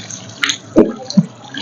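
Water cupped in the hands and splashed on the face during wudu ablution: a few short, close splashes and drips, separated by brief pauses, with no speech.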